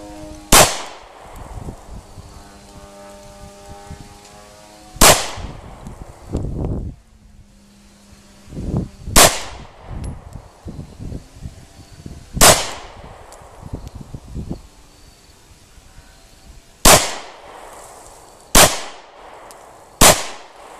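A Ruger SR9C compact pistol fires at an outdoor range, about eight sharp, loud shots spaced irregularly a few seconds apart, some in quick pairs, with handling clatter and faint rustling between, no talk.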